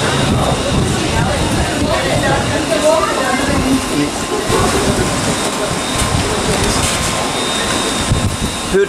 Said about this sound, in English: So yeah, still raining out there.